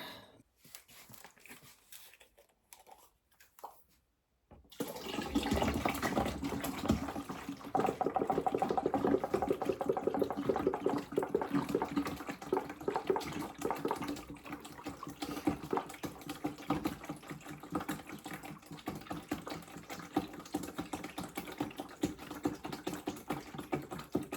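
After a few faint knocks, a gallon of water pours steadily into a container of homemade grape wine for a long stretch, a continuous splashing gush that stays fairly quiet.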